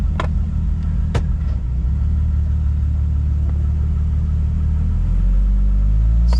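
Jeep Wrangler with a 4.0 engine and catback exhaust idling and rumbling at a test run on a hot day, steady deep exhaust drone with a few light clicks, rising in loudness near the end as it begins to pull.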